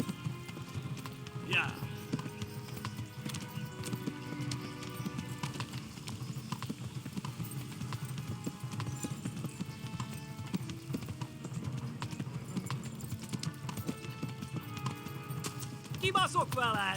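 In Kingdom Come: Deliverance, a horse's hooves beat a continuous clip-clop rhythm with a brief whinny early on, set against game ambience and someone speaking over it.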